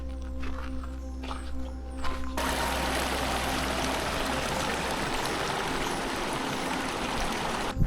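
A mountain river near a glacier at around 5100 metres rushes steadily in a broad, close roar, beginning with quieter, thinner sounds before the full flow swells in and holds.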